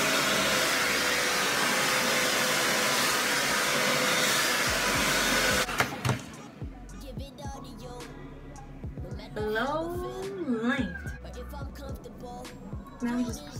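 A hair dryer blowing loudly and steadily at the roots of curly hair for several seconds, then switching off, leaving handling noises and someone talking.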